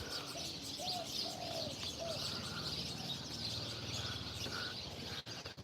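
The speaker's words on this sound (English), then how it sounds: "Just now you hear these birds." Birds call at sunrise in Thailand: pigeons or doves coo with a few short chirps over faint outdoor ambience, ending in a brief rustle.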